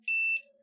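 A multimeter in continuity mode gives one short, clean electronic beep while probing a pin on a SEGA Naomi arcade board under repair; the beep is brief and alone.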